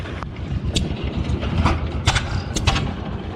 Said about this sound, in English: Oh, this is a G. This is a G. Huh, unstyled G.